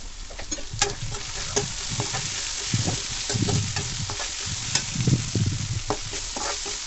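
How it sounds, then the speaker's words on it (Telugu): Okra and peanuts fry in a pan with a constant sizzle, while a spoon stirs them in irregular scraping strokes, close and clear with no voices. "మూత వేయకుండా ఫ్రై చేసుకోండి, బాగుంటుంది."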